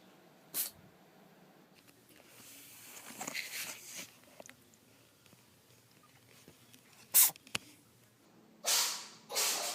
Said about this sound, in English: Sneeze one more time.